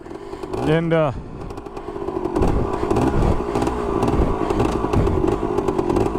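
A 1974 Kawasaki H2B 750 two-stroke motorcycle engine runs with a steady, raspy drone and throbbing low rumble, close by and loud, after a brief rising whine at the start.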